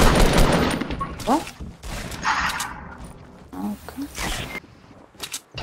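Bursts of gunfire in the Fortnite battle royale, several sharp volleys spread through the stretch, with in-game voices talking between them.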